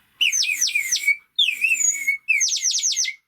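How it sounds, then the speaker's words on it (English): A water-filled ceramic bird whistle from Turkey is blown in three loud, close bursts. Each burst is a rapid warbling trill of bright chirps, like birdsong, separated by brief silences. "Basically bird whistle, put water in it, and that's how it works."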